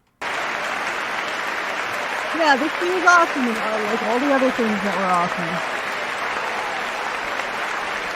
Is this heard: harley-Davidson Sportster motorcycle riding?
no